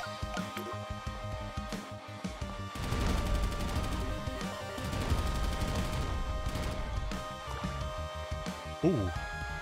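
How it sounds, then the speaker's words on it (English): Rapid machine gun fire in the roguelike action platformer Corebreaker, a dense stream of sharp game shots and crashes layered over music, with a person talking over it. "See, the machine gun's good."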